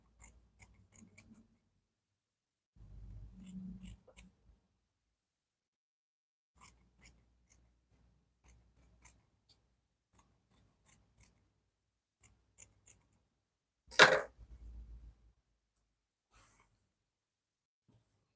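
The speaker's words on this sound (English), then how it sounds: "So I can trim off part of this excess that we have here." Scissors trim excess fabric from a pair of shorts, giving short, crisp, close snips in scattered clusters with quiet gaps between them, plus one louder rustling burst near the end.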